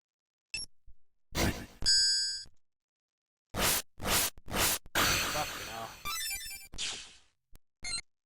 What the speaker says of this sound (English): All the fucking notifications are going off.